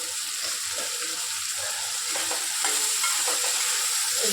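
Chopped tomatoes fry in a pan for restaurant-style palak paneer, with a steady hiss of sizzling and soft scraping as they are stirred, close and continuous, growing slightly louder toward the end.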